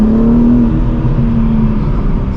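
Stock BMW M4 G82 engine revving with a steady, high-pitched drone, close and loud, holding a constant tone throughout.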